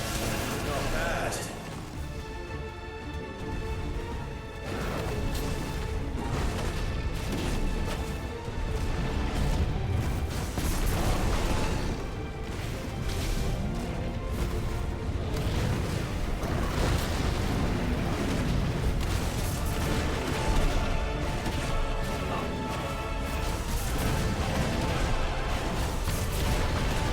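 Heavy, rumbling explosions from the Brimstone attack in the video game Final Fantasy XVI roll on amid battle noise, with someone talking over them throughout.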